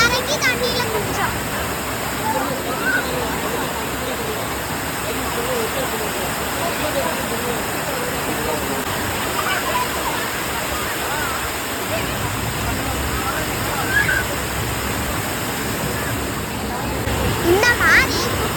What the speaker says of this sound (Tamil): இந்த மாதிரி குட்டி ஃபால்ஸ்லாம் நிறையா இருக்கு.